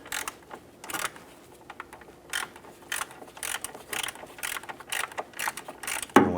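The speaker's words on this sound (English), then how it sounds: "Going to use our socket and 1/4-inch ratchet to get in there and loosen and remove" Quick ratcheting clicks from a 1/4-inch ratchet and socket loosening an 8mm bolt on a 2005-2007 Ford Five Hundred during radiator replacement, arriving in short uneven bursts close by with no talk.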